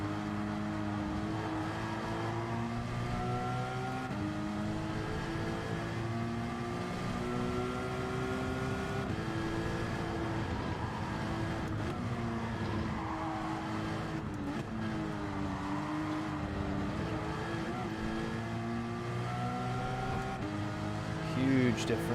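A race car in Gran Turismo 7 at Sainte-Croix drones continuously with its engine note shifting as it brakes and downshifts into a corner, steady and close, with a voice talking over it.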